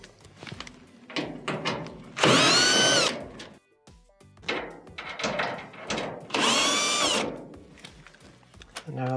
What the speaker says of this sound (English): you're going to need a T20 Torx bit to remove the 2 screws at the top